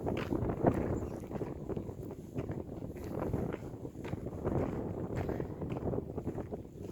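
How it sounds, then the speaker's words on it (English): Wind blows on a cloudy rural day, buffeting the microphone in uneven gusts of low rumble, fairly faint with no talk. "It's cloudy and windy, but it's bearable weather."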